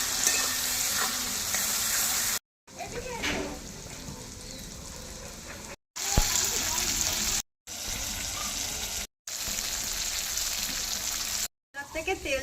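Ground spice paste with turmeric and salt stirred and fried in oil for a prawn and potato curry, a steady sizzle with scraping stirs, interrupted by several brief gaps, with some talking.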